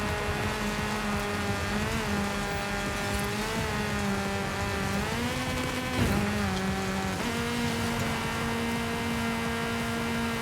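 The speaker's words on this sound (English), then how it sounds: "It sounds like it's got a fast engine." An Opel Manta's engine in the racing game Forza Horizon 5 roars steadily, its pitch rising and falling as it revs and shifts gears, loud and continuous with a synthetic, game-like tone.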